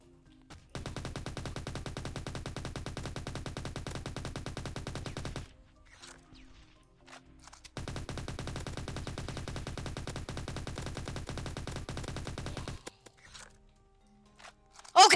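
Pistol fire in the zombie game Undead Defense Tycoon, heard as two long stretches of rapid, evenly spaced shots separated by a quiet gap, moderately loud with no voice over them.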